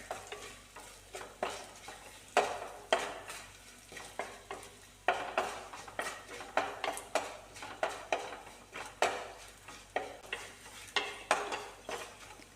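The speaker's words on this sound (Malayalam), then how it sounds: "അത് നന്നായി മൂത്ത് വരുമ്പോൾ നമുക്ക് വഴറ്റിയെടുക്കാം" Brinjal thoran, a Kerala eggplant stir-fry with chilli, is stirred and sautéed in a pan. A spoon scrapes and clinks steadily in a continuous rhythm over a soft, constant sizzle, close and moderately loud, with no talking.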